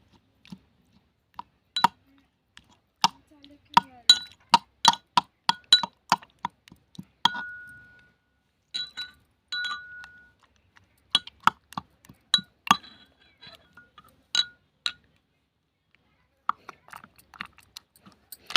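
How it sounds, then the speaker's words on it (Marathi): Steamed tomatoes roasted over a wood-fired clay stove are crushed in a stone mortar with a pestle for chutney, giving a run of sharp, close clinks and knocks in uneven bursts with brief pauses between them. "आता या खलबत्त्यामध्येच आपल्याला जे टोमॅटो घेतले ते ते टाकायचे आहेत पहिले असे फोडून घेऊया आपण"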